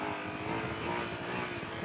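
Exhaust note of a 2020 Honda Africa Twin DCT motorcycle, a faint, continuous engine rumble held at steady revs throughout the short stretch.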